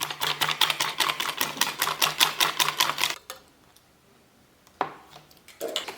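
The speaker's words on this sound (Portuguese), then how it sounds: "Agora vamos misturar esses ingredientes maravilhosos." Oat batter with cinnamon beaten briskly in a bowl: about three seconds of rapid, even tapping strokes, then near quiet broken by a couple of isolated knocks.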